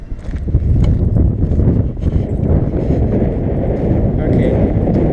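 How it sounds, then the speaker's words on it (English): Very strong wind buffeting a microphone beside a heavy haul truck: loud, continuous low-pitched roaring rumble with gusty fluctuations throughout, close and overpowering. "That's just to show you guys very strong wind today."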